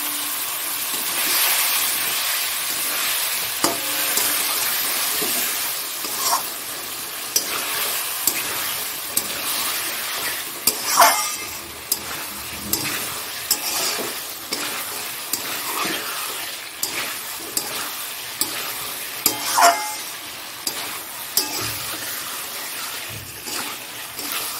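Boiled eggs fry in a pan of spiced curry masala, with a continuous soft sizzle and hiss, punctuated by regular clinks and scrapes of a spoon stirring, close and without talk.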